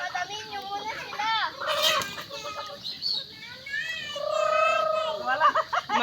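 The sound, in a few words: chickens and chicks being chased and caught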